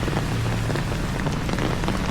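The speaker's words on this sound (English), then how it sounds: "this rain is going to go. I mean, this isn't stopping for, probably not for hours" Heavy typhoon rain pours down steadily in a city park, a dense constant hiss of drops hitting surfaces, loud and close with no pause and no voices.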